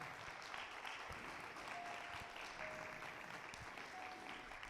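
A church congregation applauds during a Spanish-language sermon, a continuous, moderately faint roll of many hands clapping with a few brief tonal sounds over it.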